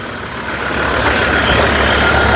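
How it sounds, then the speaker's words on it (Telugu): A 2018 Ford Endeavour Titanium 3.2 4x4 AMT idles up close, a steady, smooth engine drone that grows slightly louder and then holds level, with no talk over it. "అలాగే ఇంజన్ యొక్క నాయిస్ చాలా సైలెంట్గా ఉంది"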